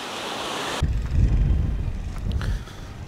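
A hiss of wind and washing water cuts off abruptly, giving way to low rumbling surf surges on a shore with a rising tide, a couple of heavier swells rolling close by.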